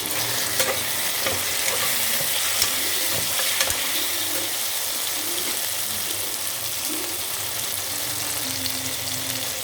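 Drumstick and potato pieces fry in a pan with a steady, loud sizzle, broken by a few scattered clinks and stirring scrapes, heard close up.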